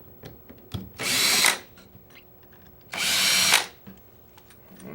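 A power driver spins out receiver screws from an airsoft gun during an electric trigger kit installation, in two short, close, whirring bursts with quiet handling noises around them.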